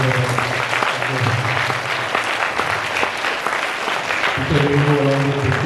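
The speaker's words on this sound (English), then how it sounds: "So let's clap for them." A school assembly audience claps for the 6B students after their class performance, a full, sustained round of applause with a voice talking over it at the start and again near the end.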